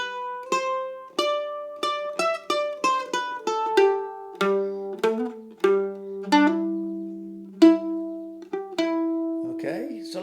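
Mandolin picking a melodic phrase in G that resolves to a C phrase, with crisp plucked notes, quick hammer-ons and ringing sustained tones, played solo and close.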